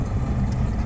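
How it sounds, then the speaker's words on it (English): A car engine with a massive exhaust leak idles in a low, steady rumble, a rough, continuous drone heard close up. "This thing has got a massive exhaust leak"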